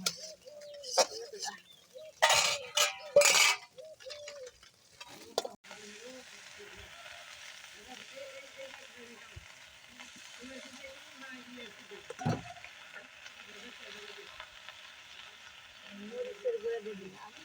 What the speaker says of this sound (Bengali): মাছ তেলে নামিয়ে গেলাম